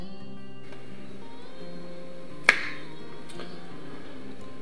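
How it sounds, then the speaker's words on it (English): A single sharp finger snap near a camera microphone during recording setup, crisp and close, standing out once against a quiet room hum with faint tonal background. "as you can hear, I snap my fingers, and that will help the audio synchronizing process"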